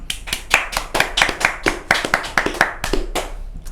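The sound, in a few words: clapping for fighter Maxi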